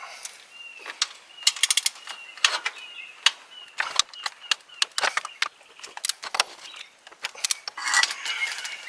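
Metallic clicking and clinking of a wrench at work on bolts during a power steering pump replacement on a 1999-2004 Ford Mustang, in quick irregular close bursts with no talk.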